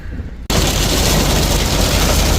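A sudden, dense roar of heavy rain and hail pounding on a truck's metal roof, loud and continuous after a brief quieter moment.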